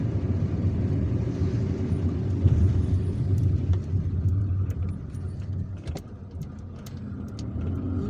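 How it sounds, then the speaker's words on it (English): Steady engine rumble and road noise come from a car driving through the streets of Algiers, a constant low drone with a slight dip near the end and no talk. "So that was us driving from Bachdjerrah to Garidi, to the Cemetery of Garidi."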